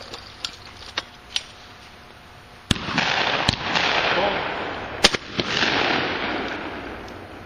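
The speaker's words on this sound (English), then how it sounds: "Good shot. Good shooting." Shotgun blasts at a skeet shooting range ring out as several sharp reports, a few quieter distant shots and then two loud close ones, each trailing into a long rumbling echo.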